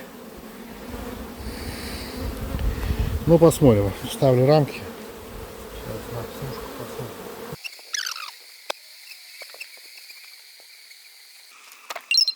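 Honey bees buzz at an open hive while a beekeeper handles the frames. The buzzing is soft and close at first, with handling noises and brief speech over it, then drops to a faint hum with occasional clicks.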